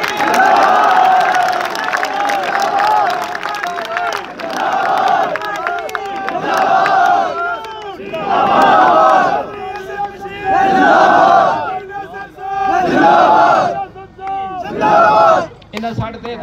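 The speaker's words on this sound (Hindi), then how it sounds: "भरपूर नारा दे तालियां हो जाए" A large crowd at a political rally in the Thal area raises loud chanted slogans in repeated surging bursts, with cheering and applause mixed in. Each shout swells and drops back, giving a call-and-response rhythm.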